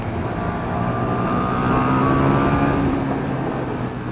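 A 2017 KTM 1290 Super Duke R motorcycle accelerates, its engine roar swelling and rising in pitch toward the middle before easing slightly, loud and close with wind rush and no speech.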